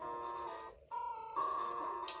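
Electronic alarm in the Pokémon Gold video game rings as a steady, thin tonal beeping, briefly cutting out before resuming; quiet and alone, without talk.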